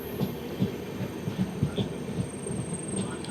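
A train pulling into Thrissur railway station, heard from on board, with a steady low rumble and soft rhythmic thumps of wheels over rail joints, continuous and moderately loud, with no talking.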